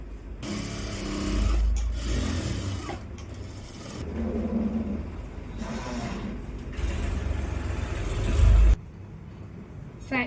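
A sewing machine double-stitches the upper part of a pair of pants, running in several sustained whirring bursts separated by short pauses, fairly close and without talk.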